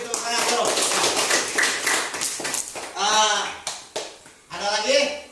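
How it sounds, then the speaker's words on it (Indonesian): Students in a classroom clap their hands together in a quick, brisk burst of rhythmic claps, followed by voices speaking in the room. "Bisa, beri tepuk tangan dulu."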